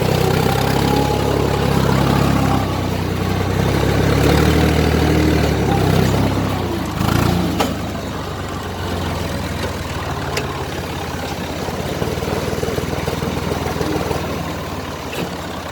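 A Massey Ferguson 240 tractor's diesel engine rumbles steadily and loudly under heavy load from its equipment, with a broken tensioner arm, a low droning tone and no voices.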